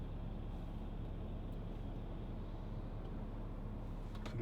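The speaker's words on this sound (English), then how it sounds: "Lots of traffic" Steady road traffic on a country circuit heard from inside a moving 2012 Volkswagen Touareg 3.0 TDI V6, a constant low rumble and rolling hiss with no distinct pass-bys and no voices.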